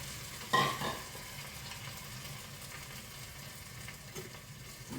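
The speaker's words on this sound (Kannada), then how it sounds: "ಕಲಸಿಟ್ಟ ಚಿಕನ್ ಹಾಕೊಳ್ಳೋಣ" Marinated chicken for a simple chicken biryani frying in a pan over a medium flame, a soft steady sizzle with a brief louder stirring burst near the start, nearby and without voices.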